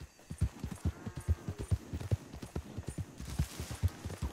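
Hooves of a horse in the Red Dead Redemption 2 video game clip-clop in a quick, steady rhythm, moderately close, with no talk.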